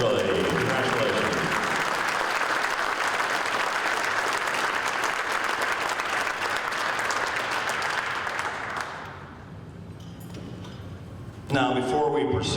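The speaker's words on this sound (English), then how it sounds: "Another round of applause, please." Sustained applause from the audience at an auto racing hall of fame induction ceremony in Victoria, steady and full for about nine seconds before it fades, followed by a brief quieter stretch and a short burst of sound at the end.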